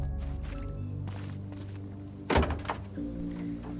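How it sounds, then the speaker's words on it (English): A door being locked in the zombie survival game Project Zomboid: a sharp, close mechanical thunk with a quick follow-up clack, heard over steady background music. "it's worth it to at least lock my doors before I leave"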